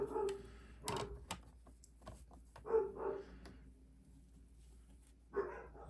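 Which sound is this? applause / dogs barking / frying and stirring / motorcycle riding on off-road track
dogs barking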